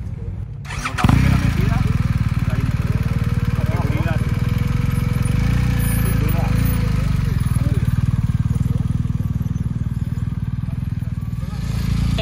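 A BMW motorcycle engine fires up after a second at a circuit during the BMW Motorrad Days event in Sabiñánigo, and keeps running loud and steady up close, with a voice faintly heard beneath the roar.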